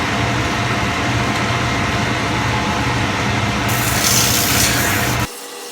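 Steady, continuous rubbing and scraping as a shoe sole is roughed up before a sole protector is fitted, loud and close, growing brighter near the end before stopping abruptly, with no voices.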